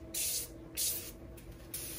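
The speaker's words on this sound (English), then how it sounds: "I'm using the Super Clean here, the aerosol here, and I'm just going to spray down the side here." Super Clean aerosol degreaser sprays onto a Champion blower and forge drill press in a workshop, three short hissing bursts with brief pauses between, close and fairly loud over a low steady hum.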